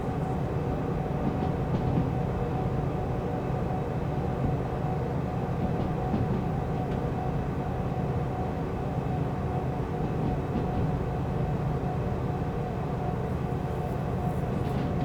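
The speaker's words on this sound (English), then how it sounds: "So we've got quite a lot of the train still coming down the hill" A diesel-powered freight train in the video game Derail Valley rolls downhill with a constant, heavy rumble of wheels and engine, steady and close throughout with no breaks.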